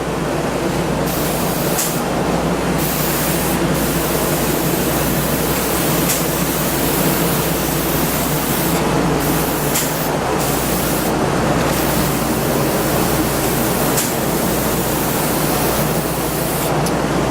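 Lacquer being sprayed onto wood as a loud, continuous hiss of spray that runs almost without a break, with a few brief pauses, close and steady throughout.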